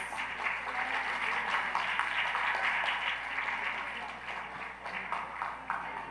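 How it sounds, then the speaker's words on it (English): An audience at a media freedom and responsibility forum claps for the speakers and panelists on stage, a steady, dense wash of applause from many hands that holds for several seconds and thins slightly toward the end. "A round of applause, please, for our speakers and panelists."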